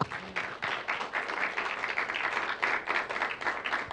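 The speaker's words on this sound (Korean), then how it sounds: "박수 한번 주세요" A church congregation at a Friday worship service breaks into dense, sustained applause, a continuous wash of many hands clapping with no talking over it.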